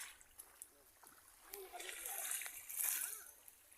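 Sea water splashing around swimmers, scattered splashes and sloshes building to louder bursts near the end, with voices in the background.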